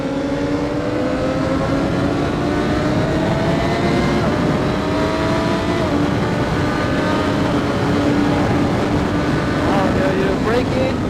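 A motorcycle at full throttle during rider training on a track, its engine holding a loud, continuous high-revving drone close by with pitch shifting as it accelerates, and faint wind rush over it.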